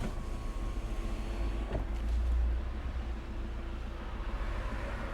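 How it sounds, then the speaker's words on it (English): Engines idle and rumble nearby at a New Holland tractor dealership, a steady low drone with a brief swell around the middle, alone without talk. "I can hear engines everywhere"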